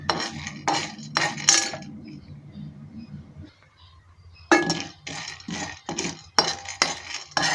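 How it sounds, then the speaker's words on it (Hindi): A metal spoon scrapes and clinks against a pan while stirring peanuts dry-roasting, in bursts of sharp rattling strokes with a quiet pause in the middle and no talk. "चम्मच को ना हम चलाते रहेंगे, कहीं ऐसा ना हो कि मूंगफली जल जाए।"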